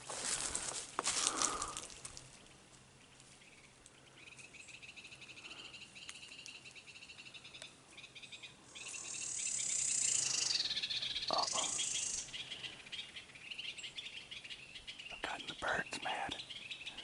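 Birds call from the trees of a forest near a campground, a mix of chirps and higher trills scattered over a steady background of insect and frog-like chorus, with one louder, sustained call in the middle.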